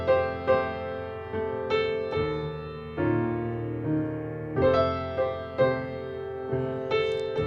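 Piano playing a song, a slow, gentle sequence of chords and melody notes with steady rhythmic attacks, clear and unaccompanied by talk.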